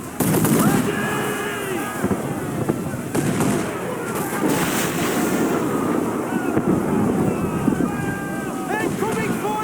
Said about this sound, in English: We'll give a good broadside!